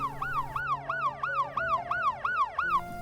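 A wailing emergency siren sweeps up and down in a quick repeating yelp, loud and close, with no voices.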